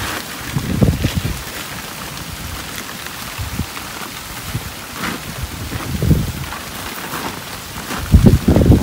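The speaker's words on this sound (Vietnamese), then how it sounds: "Mưa to luôn rồi, giống y bữa trước luôn." Steady rain patters and hisses on a surface, with gusty rumbles of wind buffeting the microphone at intervals.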